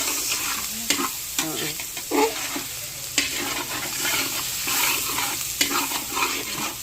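Onion sautéing in a pan while chicken arroz caldo is being cooked: a steady close sizzle with sharp clinks and scrapes of a utensil stirring against the pan at irregular intervals, with no talking.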